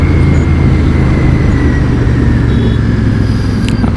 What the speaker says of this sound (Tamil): எல்லா இடத்துலையுமே டிராஃபிக்காக இருக்குது